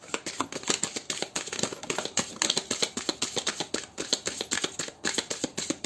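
A brand-new tarot deck being shuffled by hand, close and crisp, with rapid rhythmic riffles and card flutters repeating in quick bursts throughout, no talking.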